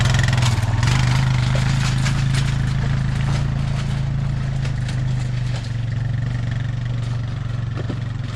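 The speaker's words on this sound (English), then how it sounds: "It is nice having the quad." A quad bike engine idles steadily up close in the snow, a continuous low throbbing hum that stays even throughout with no other sounds standing out.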